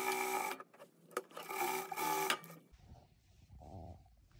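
A sewing machine stitches the folds of a fur hoodie in a close, busy rattling run for about two and a half seconds, then fades to quieter soft handling sounds.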